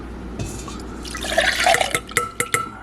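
Reserved pineapple juice poured into a measuring cup in a home kitchen, a short splashing trickle building then ending in a few clear drips and clinks, close and moderately loud.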